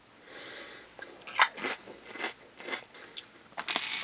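Lay's potato chips bitten and chewed close up, a series of sharp crisp crunches in irregular bursts over a few seconds, with no talking.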